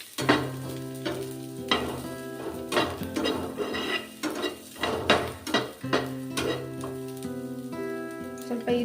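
Onions frying in a little oil in a pan, with sizzling under loud repeated scraping and clanking of a utensil against the pan, in bursts with short pauses between them, close up.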